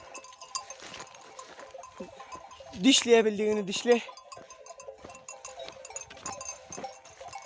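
A flock of sheep grazes on a mountainside, one close bleat rising out of soft shuffling, scattered clinks and small rustles, while someone speaks nearby.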